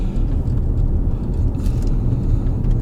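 Car driving along a road toward a campsite, a steady low engine rumble and road noise heard from inside the vehicle, continuous and fairly loud with no talking.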